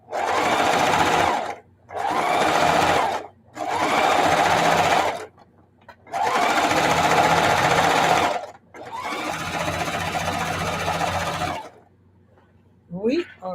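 A sewing machine stitches the last seam of a Christmas tablecloth in five loud, close runs of rapid whirring, each lasting one to three seconds and separated by short pauses.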